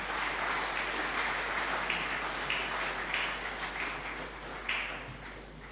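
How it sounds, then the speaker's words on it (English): Sustained applause from a gathered audience at a memorial lecture, welcoming an archbishop; dense, steady clapping from many hands at moderate distance, continuous throughout and fading slightly toward the end. "Shall we now, with a round of applause, invite the Archbishop?"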